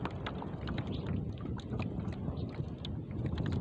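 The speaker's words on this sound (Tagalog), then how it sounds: "Uy, lumalakas ang hangin pampira." Strong wind roars steadily against the microphone with a constant rumbling gust, broken by occasional small clicks and knocks, outdoors on a fishing trip.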